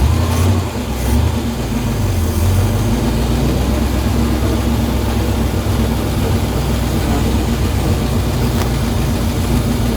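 A 1965 Dodge car rolls along in first gear, a steady low engine drone with a faint whine running through it throughout, no talking.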